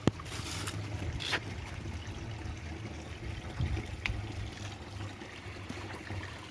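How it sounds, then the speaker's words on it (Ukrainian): Water trickles and gurgles at a spring called Ohrud, where drinking water is being collected from a flowing stream, a soft, continuous burble with a few faint knocks and splashes. "Покажу вам, Ваня набирає воду"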